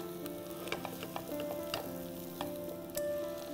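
Roughly chopped carrots sautéing in a pan for a carrot and orange soup: a close, steady sizzle with light clicks and taps of a spoon against the pan scattered throughout.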